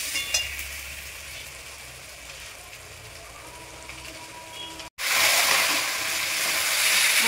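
Mutton pieces sizzling and being stirred in cooked spice masala with oil for biryani, a quieter stir giving way to a loud, bright burst of hissing frying after a brief break.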